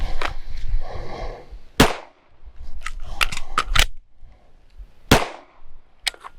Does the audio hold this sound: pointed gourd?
no